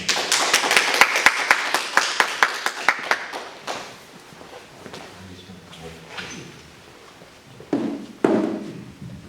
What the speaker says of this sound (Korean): 우리 큰 박수로 우리 교수님을 모시도록 하겠습니다